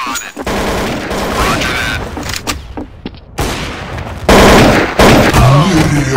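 Loud bursts of gunfire in the video game Counter-Strike: Source crack and rattle in rapid volleys, with a short lull in the middle before the shooting resumes.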